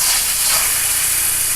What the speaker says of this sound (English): And it is sizzling. We have sizzling.